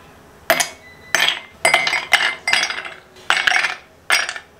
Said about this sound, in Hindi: तो अब हम इसमें डालेंगे आइस क्यूब्स।